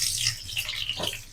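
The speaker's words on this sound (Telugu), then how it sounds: "ఆయిల్ కొంచెం హీట్ అయిన తర్వాత ఇందులో ఆనియన్స్ వేసుకోవాలి." Chopped onions dropped into hot oil in a kadai while cooking Chicken Manchurian, giving a steady close hiss and crackle of frying that runs through the whole short moment.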